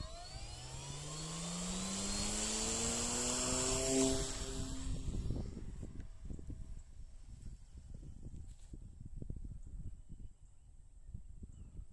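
A drone's motors spin up with rising whines, climbing in pitch over a few seconds as it lifts off, then the sound falls away into faint, distant hum and breezy outdoor noise.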